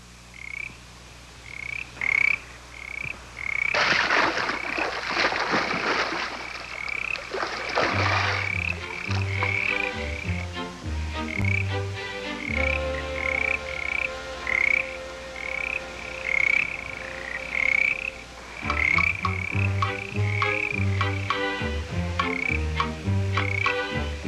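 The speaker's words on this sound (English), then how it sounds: "That chorus of frogs didn't quite know what to make of that bear." A chorus of frogs croaking in a pond setting, with rhythmic repeated calls throughout, mixed with orchestral music and a burst of splashing water early on.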